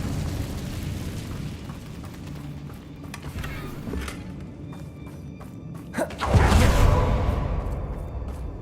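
A fire spell, Incendio, cast in the Hogwarts Legacy video game bursts out as a loud whooshing blast over a rumbling game backdrop, then roars for a couple of seconds before easing.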